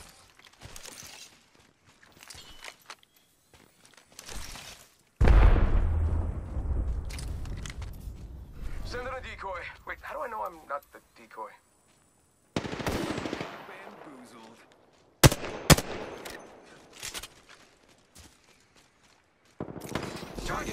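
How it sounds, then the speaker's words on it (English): Bursts of rapid automatic gunfire in a battle-royale shooter game, loud and close, breaking off and resuming between quieter stretches with small impacts and in-game effects. "Opening fire on the enemy."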